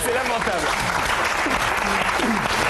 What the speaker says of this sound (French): Je sais qu'on applaudit